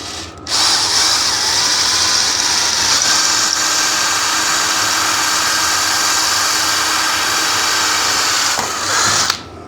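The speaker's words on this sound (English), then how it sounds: "This drill bit right here is going to do the trick." A power drill runs steadily for about nine seconds on race tractor work, a high, constant whine, starting and stopping abruptly, close and loud.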